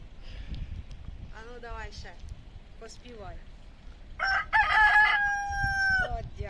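A rooster crows loudly and close by near the end, following a few seconds of quiet talk and softer bird calls.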